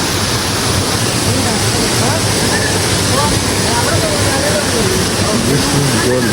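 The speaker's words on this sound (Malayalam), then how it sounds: "Natural waterfalls." Karumparai waterfall in Kanyakumari roars in a dense, constant rush of falling water close by, with voices talking over the noise.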